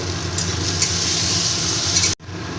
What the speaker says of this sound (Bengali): সামান্য একটু হলুদের গুঁড়ো দিয়ে আর দিয়ে আমি ভেজে নেব